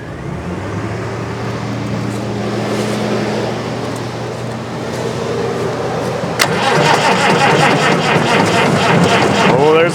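A Farmall 806 tractor on a cold start, its starter cranking the engine in a labored, rhythmic drone for several seconds before a sharp catch and a louder, rougher chugging burst, close and loud, with a voice speaking over it.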